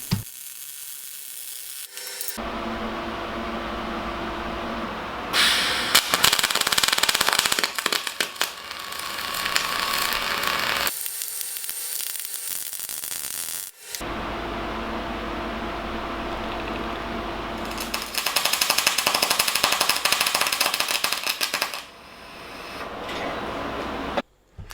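Spray-transfer welding on 10mm steel gives a steady, loud hiss with no crackle, running in long continuous bursts separated by short quiet pauses.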